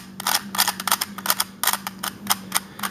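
Alpha CC speedcube turned rapidly by hand, a crisp run of close, sharp plastic clicks and clacks in quick irregular bursts.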